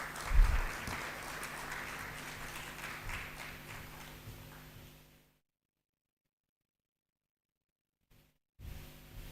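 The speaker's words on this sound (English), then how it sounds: "Can we have a round of applause for our chairperson," Audience applause for the chairperson at an ICAI Bahrain Chapter AI hackathon event, a broad clapping burst that fades out after about five seconds into silence, then a brief return of sound near the end.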